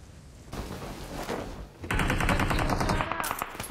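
Rapid automatic gunfire rattles through a BGMI video game gunfight, starting moderately and then breaking into a louder, denser stream of shots in the second half.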